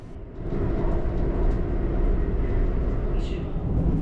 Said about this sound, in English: afterwards we get up to the train's current in-service maximum speed of 160 km per hour